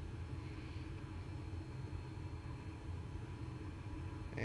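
Flight simulator airplane engine at takeoff power during the takeoff roll, a steady loud low rumble and drone holding for several seconds with no talk over it.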